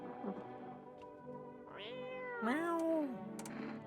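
A cat meows in the horror video game No, I'm Not a Human, with a few soft meows ending in one drawn-out, rising and falling call, faint and alone.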